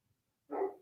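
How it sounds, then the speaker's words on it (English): A single short dog bark sounds out after a moment of near silence, fairly close and moderately loud. "I'm really sorry for the dogs barking."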